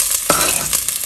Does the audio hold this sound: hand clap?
no